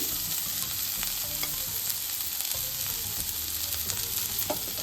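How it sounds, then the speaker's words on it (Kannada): Grated carrot fries in ghee in a pan for carrot halwa, giving a continuous close sizzle with soft scraping and stirring knocks from a spatula. No one speaks. "ಇದ ತುಪ್ಪಕ್ಕೆ ತುರಿದಿಟ್ಕೊಂಡು ಕ್ಯಾರೆಟ್ ಹಾಕೋತೀನಿ."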